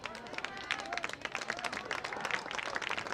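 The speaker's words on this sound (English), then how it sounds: "He gets a round of applause" Fans of the Mustangs applaud and cheer as a new number 43 goalkeeper enters a WPIAL boys' high school soccer match, the clapping spread across the stands under the ambient noise of an outdoor crowd, with commentary speech over it.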